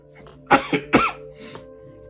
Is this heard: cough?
yes